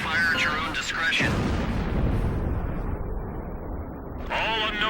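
Missiles strike and destroy aircraft in a flight combat video game, with loud, rumbling blasts and booming bursts filling the scene and a brief voice-like chatter at the start and end.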